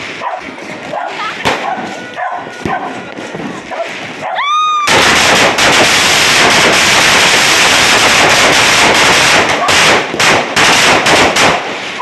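New Year firecrackers go off at a neighbor's home: scattered sharp bangs, a brief whistle, then a loud, dense, continuous crackling barrage of rapid-fire pops close by.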